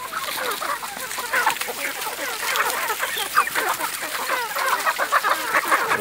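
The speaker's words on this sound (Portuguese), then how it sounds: "essas aqui são as minhas criações de galinha caipira na minha mini chácara" Hungry free-range chickens on a small urban smallholding cluck and squawk in a busy, overlapping flock, close and continuous, with no clear talk.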